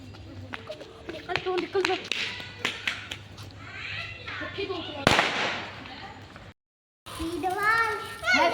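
Sharp Diwali firecracker bangs pop irregularly amid children's chatter and voices, with one louder crack standing out near the middle.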